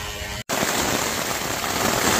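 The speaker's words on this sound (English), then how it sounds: "We're starting to pour rain now." Heavy rain pours down in a dense, loud, continuous hiss and patter, close and steady, broken only by a split-second cut near the start.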